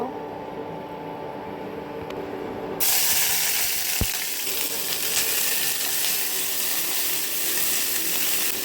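Chow mein noodles frying in oil in a home kitchen. A loud, bright sizzling hiss starts abruptly a few seconds in and continues steadily, with a single sharp clank partway through.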